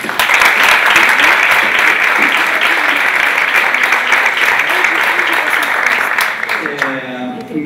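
A theatre audience gives a long, loud, sustained round of applause after a stage performance. Many hands clap in a dense, even roar that holds steady, then thins and fades near the end as a voice begins to speak.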